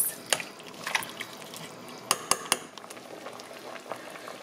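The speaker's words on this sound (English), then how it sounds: "let it go back up to a high boil again and boil the shrimp for about 10 minutes" A pot of shrimp boiling on a stovetop for a shrimp boil, with a steady low bubbling bed of water and a few sharp clinks and drips scattered through, fairly quiet with no voices.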